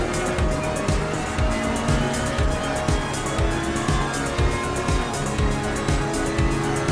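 A Ferrari 488 GT3 race car in Assetto Corsa screams at high revs with rapid gear shifts and rhythmic engine pulses, loud and close, with faint tire noise through corners.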